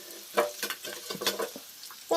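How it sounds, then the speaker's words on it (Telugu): Curry leaves crackling as they drop into hot oil in a home kitchen pan, close-up irregular sizzling pops and spits in short clustered bursts, moderately loud with no voices. "నాకు కరివేపాకు అంటే చిటపట అంటే బాగా భయం, అందుకే ఇప్పుడు వేస్తున్నాను"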